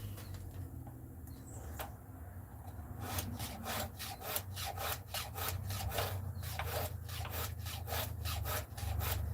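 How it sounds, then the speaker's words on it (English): A file drawn through the tooth of a carving tool while carving a maple leaf bear, a close steady back-and-forth rasping scuff repeating in quick strokes over a low background hum. "I'm just going to drag the file right through the tooth, give it a little scuff down"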